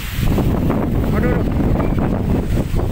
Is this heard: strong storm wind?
yes